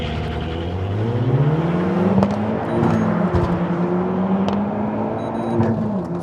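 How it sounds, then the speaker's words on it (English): A Renault Megane Trophy-R hot hatch launching hard with launch control, its engine roaring loudly and climbing steeply through the revs, with sharp gear-shift breaks as it accelerates away. "Launch control on this, there we go."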